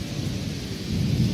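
Steady rain pours down during a dark thunderstorm, with a low rolling rumble of thunder swelling toward the end, close and fairly loud with no voices.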